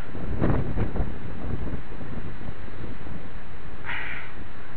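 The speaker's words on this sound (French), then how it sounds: "C'est bien le vent de l'orage." Strong thunderstorm wind roars and buffets the microphone in a heavy gust in Vougy, rumbling loudly and then easing into a constant blustery rush.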